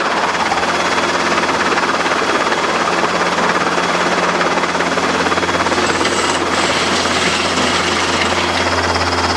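Robinson R22 helicopter making a slow running landing, its loud steady rotor and engine roar filling the whole stretch with a constant churning drone and no pause.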